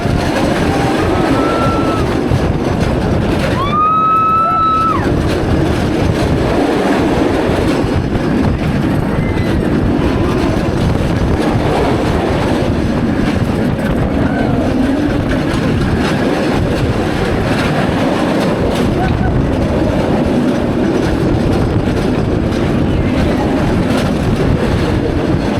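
The Kumba roller coaster train at Busch Gardens Tampa Bay rumbles and clatters steadily along its track for a long stretch, with a brief wheel squeal near the start.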